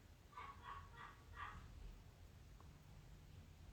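A dog barks from a distance while mail is being delivered, four quick barks early on, faint over a steady low background hum.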